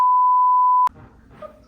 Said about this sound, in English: Why does everything beep 900 times?